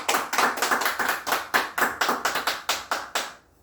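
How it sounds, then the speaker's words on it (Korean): Rhythmic clapping greets a completed Bible recitation, a run of roughly a dozen even, sharp claps in steady time, close and clear, stopping abruptly near the end. "박수로 환영해 주시기 바랍니다"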